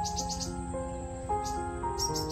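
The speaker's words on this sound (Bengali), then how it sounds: "পাখির আওয়াজ পাচ্ছেন" Birds chirping in short bursts amid a Sundarbans forest backdrop, with a steady layer of tonal hum and insect-like buzzing underneath; no one speaks.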